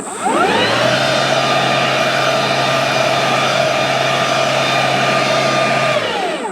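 A Stihl BGA 85 battery leaf blower runs steadily at full power, a loud whirring whine that spins up, holds evenly for several seconds, then winds down.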